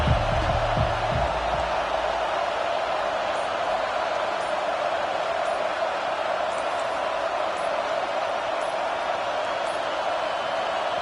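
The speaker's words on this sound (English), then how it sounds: "This crowd bringing an ear-splitting welcome to their visitors." A stadium crowd at a college football game against Ohio State roars in a steady, loud, continuous wash of cheering that runs the whole time without a break, with a brief voice near the start.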